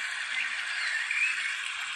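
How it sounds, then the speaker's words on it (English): A Huawei Watch GT alarm rings as a thin, high-pitched electronic tone, continuous and fairly faint, sounding alone without speech. "That's the alarm."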